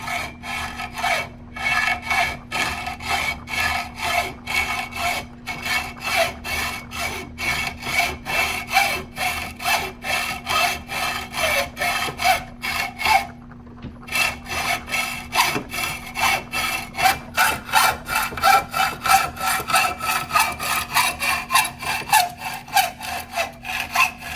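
Steady back-and-forth sawing strokes on a switch bracket close by, rhythmic and loud, with a brief pause midway before the rasping cutting resumes.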